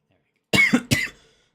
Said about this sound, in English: I just start coughing like crazy